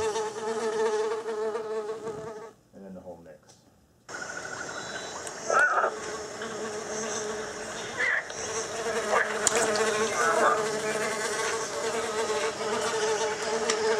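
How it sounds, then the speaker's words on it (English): A buzzing housefly circles through the listening space in a DTS:X object-based surround demo, its steady drone sweeping in front, behind and overhead, dropping out briefly before returning at a constant moderate level. "So you hear this buzzing fly, and it spins around in front of you, behind you, overhead."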